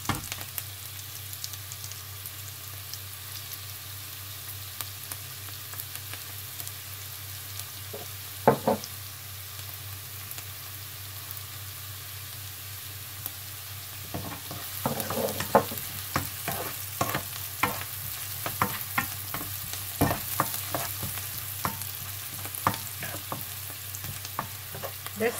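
Rice stir-fries with ham, carrots, shallots and garlic over medium heat: a continuous sizzle, quiet at first, then busy with rapid spatula scrapes and knocks against the pan through the second half.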